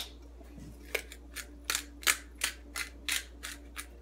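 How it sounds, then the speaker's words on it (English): A hand pepper grinder cracks pepper over breakfast food in about ten quick, crisp crunching twists in a row, close and fairly quiet. "Grind a little pepper on there."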